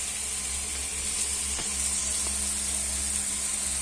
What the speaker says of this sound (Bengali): ভাজা ভাজা হয়ে যাচ্ছে বন্ধুরা